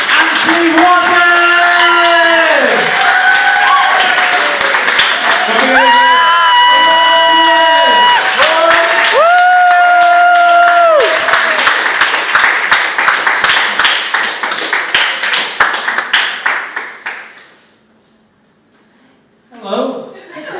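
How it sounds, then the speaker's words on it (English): Comedy club audience claps, cheers and whoops to welcome a stand-up comedian to the stage, a loud sustained roar with shouts that fades abruptly near the end before a brief burst returns. "Please start your claps, ladies and gentlemen, boys and girls."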